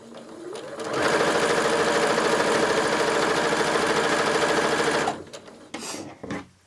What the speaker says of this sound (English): Now you're going to sew these together in a 9-patch. You always want to use a 1/4 inch seam.